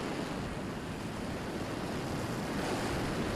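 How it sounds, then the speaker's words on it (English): Strong, gusty wind buffets the microphone of a Quanum Overlord model plane in flight, a steady loud roar of broadband rushing noise that swells slightly in places, with no voices. "it's quite windy today and the wind's quite gusty"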